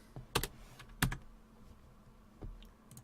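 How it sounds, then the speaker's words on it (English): Typing on a computer keyboard while coding in Python, a few sparse clustered key clicks close to the microphone over a quiet room hum, with no talk. "I'm going to type print string of total"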